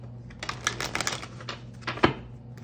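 Tarot cards being shuffled by hand, a run of quick, crisp riffling clicks and flutters near the microphone, with a sharper snap around two seconds.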